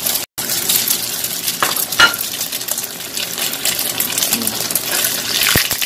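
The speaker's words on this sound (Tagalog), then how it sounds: "Mainit na yung ating mantika. So, lalagyan na natin yung itlog. Fried lang natin yung itlog natin." Eggs fry in hot cooking oil in a pan, giving a steady, close, fairly loud crackling sizzle with occasional sharper pops and clinks, and no one speaking.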